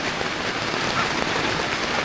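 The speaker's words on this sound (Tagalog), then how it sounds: "So talagang ulan na." Rain pours down steadily during a motorcycle ride, a dense, even hiss of drops that fills the whole moment without a break.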